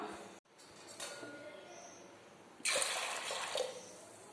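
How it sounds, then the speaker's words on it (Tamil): Water pours in a steady hiss and splash into a pressure cooker pot of chickpeas, growing louder partway through, with faint clinks of the pot nearby. "ஸோ மூழ்கிற அளவு தண்ணி ஊற்றிக்கலாம்."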